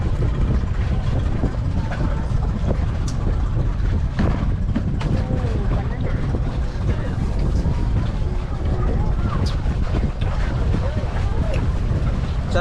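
Strong wind blows at the seaside in Bantayan, Cordova, Cebu, a loud, constant rumbling roar with gusty microphone buffeting throughout and faint voices buried underneath.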